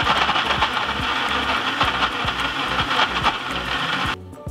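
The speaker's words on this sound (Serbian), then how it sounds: "i sada ću sve izblendirati." A kitchen blender whirs steadily, blending orange pieces with 100 ml of water in a dense, rattling churn that stops abruptly just before the end.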